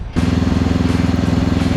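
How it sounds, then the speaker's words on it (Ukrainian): A motorcycle engine runs steadily and loudly up close, with a fast, even pulsing throb that starts abruptly after a brief moment and continues without talk. "Я взяв у кінта поганяти мотоцикл."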